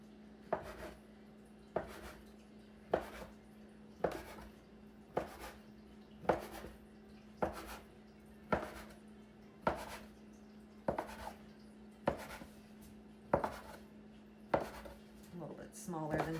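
Steady knife chops slicing a rolled sourdough cinnamon bun log with pecans into pieces on a board, about fourteen crisp, evenly spaced cuts with a faint low hum underneath.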